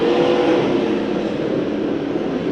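Pro stock race cars battle at Santa Maria Raceway, with a loud, steady roar of several engines at full throttle that holds unbroken throughout.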